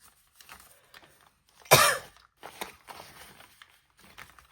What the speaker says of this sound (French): J'en peux plus de ma toux.